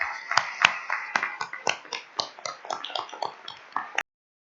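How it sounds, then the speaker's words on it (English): Applause from a conference audience for the panelists at a scholarly discussion, a brief burst of claps that fades out after about four seconds, fairly quiet and without talk. "let's please give a huge round of applause for everyone"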